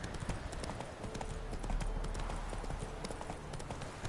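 A horse galloping in the video game Witcher 3, with rapid rhythmic hoofbeats pounding steadily throughout, dense and continuous under game ambience.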